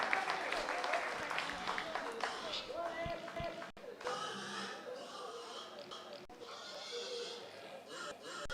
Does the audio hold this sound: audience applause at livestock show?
yes